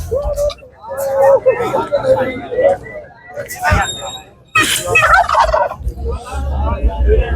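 Japanese and Sprite bantam chickens and guinea fowl on a poultry farm cluck and call loudly and close by, mixed with people talking throughout.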